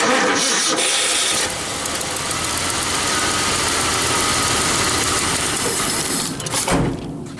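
A 1976 Ford F-250 truck engine fires up after priming and settles into a steady, rough idle, loud and close with continuous vibration, dipping briefly near the end.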